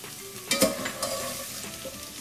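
Masala spices fry in a pan for aloo chole with chickpeas and potatoes, giving a low, steady sizzle broken by a couple of sharper stirring scrapes near the start, with no voices.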